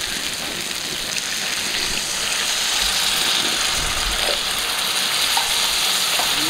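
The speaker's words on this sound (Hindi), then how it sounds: "चलो इसके अंदर भी डाल देते पानी" Water pours into a cooking pot at a jungle riverside campsite, a steady, continuous gushing splash that holds for several seconds.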